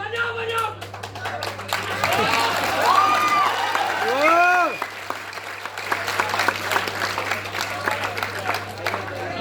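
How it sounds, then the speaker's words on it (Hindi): An audience claps at a kavi sammelan poetry recital, a steady patter of hands throughout with a voice speaking over it and a few tonal sounds in the middle. "डरा डरा के ताली मत बजा।"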